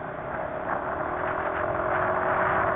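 Yamaha NMAX scooter engine idling smoothly, a steady low mechanical hum with a faint whir, close by and constant with no talking.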